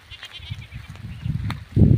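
A young goat kid in a village bleats once, short and close, near the end after soft rustling and shuffling noises.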